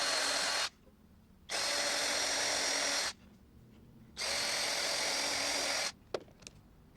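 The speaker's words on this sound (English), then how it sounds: "Then drill" A power drill bores a pilot hole in wood for a spray paint can rack: three loud, steady bursts of whining drilling, each a second or more long, separated by short quiet pauses.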